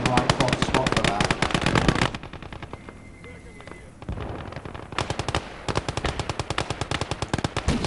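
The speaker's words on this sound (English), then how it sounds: "the flak cannon does an amazing job here" A flak cannon fires at a plane in a World War II video game battle, rapid loud bursts of automatic gunfire with a short lull in the middle before the firing resumes.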